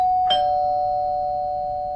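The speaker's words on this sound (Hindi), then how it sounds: "डोरबेल बजा।" A single doorbell chime rings out clearly, struck once and then left to hang as a long, steady tone that slowly fades over a couple of seconds in an otherwise quiet room.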